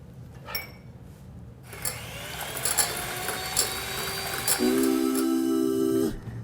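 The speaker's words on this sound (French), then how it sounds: "ce que tu pourras faire, c'est battre les blancs en neige" An electric mixer whirs steadily as it beats egg whites into stiff peaks for a chocolate charlotte, starting after a brief pause and climbing in pitch before cutting off.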